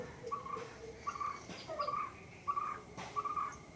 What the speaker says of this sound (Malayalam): ആകെ കിളികളുടെ ബഹളമാണ് അതിൽ കേട്ടോ